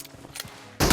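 Gunfire in a shooter video game: faint scattered pops, then a loud, dense automatic burst that cuts in abruptly near the end and carries on, with no talking.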